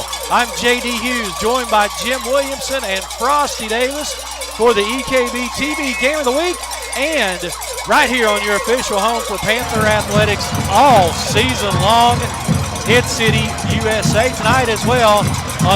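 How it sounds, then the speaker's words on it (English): A packed crowd at a Class A state semifinal high school football game in Paintsville, Kentucky, rattles cowbells and clappers with sirens mixed in, a dense steady din running under a broadcaster talking throughout. "The sounds you're hearing, clappers, cowbells, sirens, and a packed house here in Paintsville"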